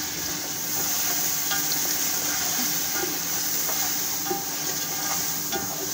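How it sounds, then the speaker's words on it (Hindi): Mutton frying in oil with spices, giving a continuous close sizzle and hiss with faint crackles, and no voices. "ये गोश्त को अच्छे तरीके से भून रहे हैं हम लोग, ताकि ये जो ऑयल वगैरह सारा इसमें मसाले मिक्स हो जाए"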